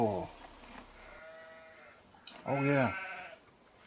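A sheep in a farming video game with an American Outback setting lets out a loud, wavering bleat near the end, after a man's brief spoken remark at the start, with faint game ambience around it.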